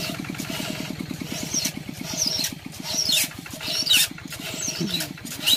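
A tractor engine runs at a steady idle near a rice field, its low, rapid chugging thumping evenly throughout. Scraping and rustling noises come and go on top of it.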